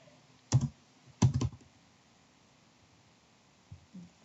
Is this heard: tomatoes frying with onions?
no